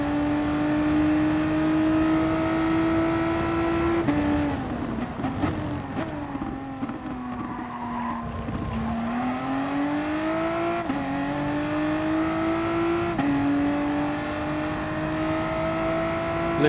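Engine of a VW Supersport race car in a racing video game at the Red Bull Ring, droning steadily at high revs, dipping as the car lifts and brakes mid-lap, then climbing again with gear changes, loud and continuous.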